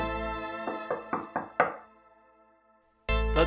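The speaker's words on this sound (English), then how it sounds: "Just give it a knock to find out" Five hollow knocks on a wooden dining room door, evenly spaced and close, set between bursts of music with a quiet pause before the music returns.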